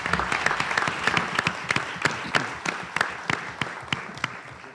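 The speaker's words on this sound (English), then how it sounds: "They deserve a round of applause." An audience at a school board meeting claps for high school students who raised money for cancer research, with crisp individual claps standing out over a bed of steady applause.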